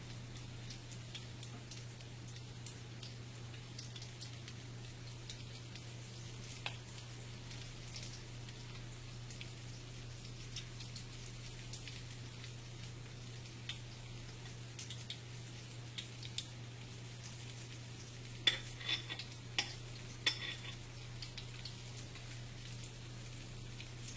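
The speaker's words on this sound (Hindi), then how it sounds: "बस इसी तरह से पकौड़ों को अभी फ्राई होने देंगे।" Gram flour pakoras fry in oil with a faint, continuous crackling fizz and scattered light ticks, quiet and close, with no talk.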